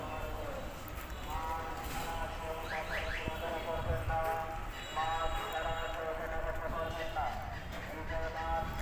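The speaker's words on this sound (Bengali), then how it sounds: "দেখছেন ঘোড়া আসলে অনেক সুন্দরভাবে দৌড়াইতেছে" A mare runs at a rural horse market in Putiya, Narsingdi, with hoof clip-clops mixed into a busy crowd, people talking throughout and other animal calls in the background.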